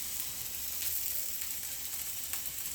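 Small capsicum bajjis fry in hot oil with a steady, close crackling sizzle, broken by a few sharper pops and no talking.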